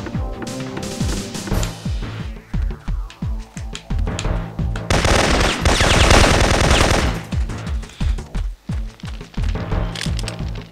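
Rapid bursts of gunfire from the PS1 game Syphon Filter, loud repeated shots with a sustained stretch of automatic fire in the middle, almost no voice present.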